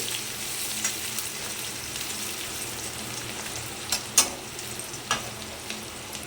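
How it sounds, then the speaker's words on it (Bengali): Onions sizzle steadily as they fry in a pan, a continuous close hiss broken by a few sharper crackles and pops near the end. "পেঁয়াজগুলো একটু ভেজে নিচ্ছি।"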